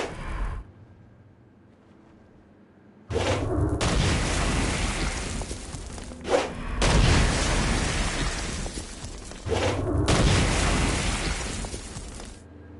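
Stone Blast attacks hitting flying demons in a PS4 action game: loud booming explosions in several long bursts separated by quieter gaps, with a sharp pop in the middle.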